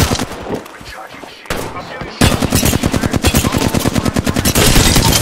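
Rapid automatic gunfire in a video game strikes the player, a dense run of loud, steady repeating shots after a short burst and a brief lull, with faint voice in the background.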